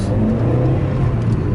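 A Vauxhall Corsa SXi engine revs steadily at high RPM, about 4,000 in first gear, a loud continuous drone with a low throbbing hum throughout.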